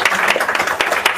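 An audience at an RCM business seminar in Faridabad claps together, giving loud, uneven bursts of hand claps with sharp individual strikes through a short round of applause.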